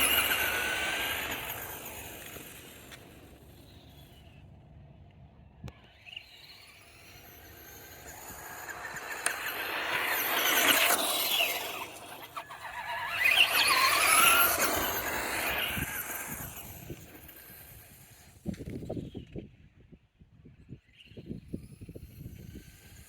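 A Traxxas Slash RC truck running a Titan 12-turn brushed motor, an XL5 controller and a nickel-metal-hydride pack whines as it drives. The motor whine rises and falls twice as the truck speeds past, then turns to rough, scattered crackling.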